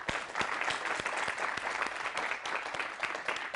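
Audience applause at a stage comedy show, a steady run of clapping with distinct sharp claps standing out, moderately loud and continuous throughout.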